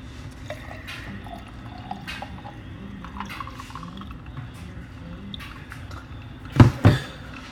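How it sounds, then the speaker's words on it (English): Tea poured into a glass at home, a soft trickling stream running low under room noise, ending with a couple of louder splashes or clinks near the end. "Pouring that."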